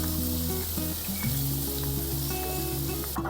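Finely chopped onion sizzles steadily in a hot pan while pithla is made, a continuous close frying hiss over a steady tonal background hum with brief stirring clinks.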